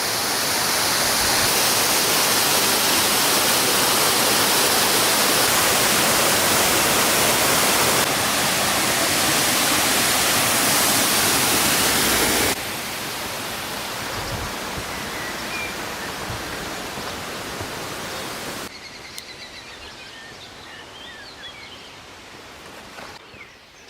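A waterfall on the Azores island near Ponta Delgada roars as a dense, steady wash of noise, loud at first, then dropping to a softer, more distant rush before fading lower toward the end.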